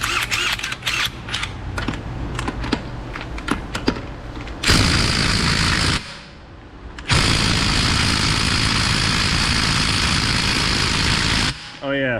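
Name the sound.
impact gun removing overheated nuts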